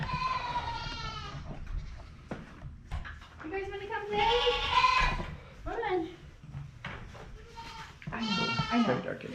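Young goats on a farm bleat several times, loud and close, while a person talks to them and coaxes them along.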